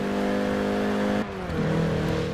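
A car engine in Forza Horizon 4 revs high with a buzzing tone, dips briefly as if shifting gear, then climbs again, loud and close.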